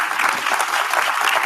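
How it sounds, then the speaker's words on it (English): Continuous audience applause at an ITC SheTrades event, a dense, steady clatter of many hands clapping throughout, fairly loud and without a break. "As you take your seats, a round of applause."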